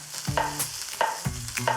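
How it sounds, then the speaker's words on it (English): Steak hitting a hot pan and sizzling, with quick scraping and stirring strokes of a utensil, close and fairly quiet, no talk. "that's the sound you wanna hear when you add your steak to the pan"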